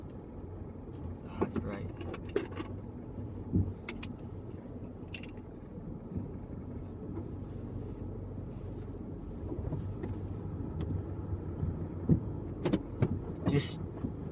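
A car drives along the road to a gas station, a low steady road rumble with wind buffeting and a few clicks and knocks inside the cabin, while a person speaks briefly.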